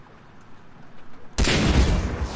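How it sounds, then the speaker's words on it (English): Sustained burst of gunfire in the video game Far Cry 3 aimed at a sniper, erupting suddenly after a quiet stretch and continuing loud and dense to the end. "you distract him, and I'll shoot the sniper"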